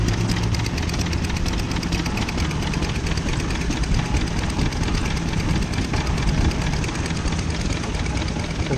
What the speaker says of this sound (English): So there's several little engines